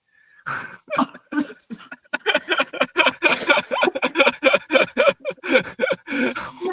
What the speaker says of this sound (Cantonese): 你真係笑到我咳，